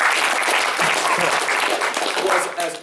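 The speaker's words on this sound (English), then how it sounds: "I'd like everyone to give him a round of applause" An audience at a fellowship-series event applauds a student in a dense, loud, sustained round of clapping that fills the space, thinning a little just before it stops.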